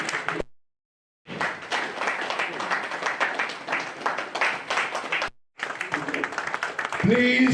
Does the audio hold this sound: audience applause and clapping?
yes